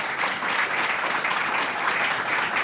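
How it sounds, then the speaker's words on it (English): A crowd at a headquarters grand opening gives a round of applause: dense, sustained clapping from many hands, steady and fairly loud the whole way through, with no voices standing out. "Let's give him a round of applause."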